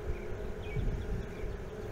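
Honey bees buzz on a built-out wax frame lifted from a Langstroth or Layens hive, a close, steady droning hum with small shifts in pitch and no voices.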